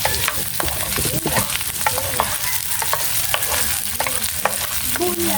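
Onions and corned beef frying in a pan, loud steady sizzle broken by repeated scraping strokes of a spatula as the mix is stirred, no talk.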